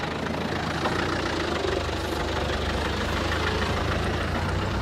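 An off-road vehicle engine runs low and steady while creeping slowly over rough ground with very little diff clearance, a constant near rumble throughout with no voices.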